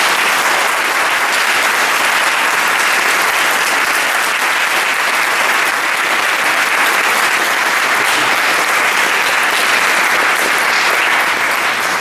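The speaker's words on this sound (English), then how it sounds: "please give all of them a round of applause" A large audience at a school board candidates' forum claps loudly and continuously, a thick, even wash of many hands that holds steady from start to finish without pause or speech.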